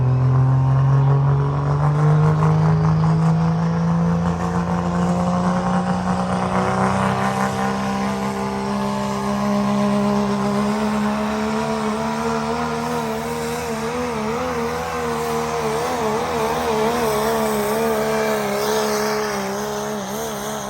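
Pulling truck at a sled pull competition roars at full throttle, a loud sustained engine drone that slowly shifts in pitch and wavers as it strains down the track, with no voices.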